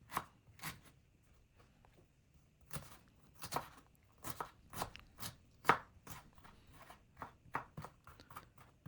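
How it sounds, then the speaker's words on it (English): Fresh ginger being chopped into small pieces with a knife on a board, a run of crisp, fairly close blade strikes in uneven bursts with short pauses between them. "Cut into smaller slices and then make as much as smaller sizes by chopping them."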